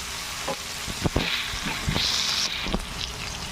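Tomatoes soften in a hot pan with a steady close sizzle, broken by several sharp clinks and scrapes of a utensil stirring.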